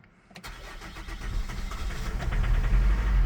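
A Holden Captiva engine cranking and catching after an EGR replacement, then rising into a rough, building rev under throttle, getting louder toward the end.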